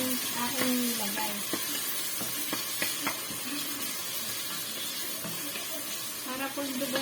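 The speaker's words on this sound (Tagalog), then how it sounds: "Nagisa po tayo ng sibuyas, bawang, kamatis." Onion, garlic, tomato and ginger sizzling in a pan for dinuguan, steady frying hiss with scraping stirs and clinks of a utensil, close and continuous.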